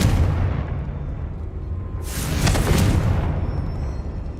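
A Confringo blasting spell in Hogwarts Legacy erupts at a witch's tomb: a low rumbling hum gives way to a sharp, loud burst of explosive noise that flares for about a second before settling back.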